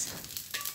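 Garlic and onion dropped into smoking-hot cooking oil in a large wok, giving a brief, close, broadband sizzle.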